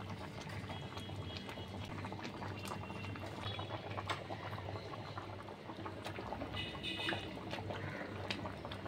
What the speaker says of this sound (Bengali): জোর আঁচে 1 মিনিট ফুটিয়ে নিয়েছি।